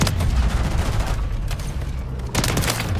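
Fire-type shotgun from Modern Warfare 3, fired from the hip: dense, loud game gunfire bursts across the whole moment, with a heavy blast near the start and another near the end over constant battle noise.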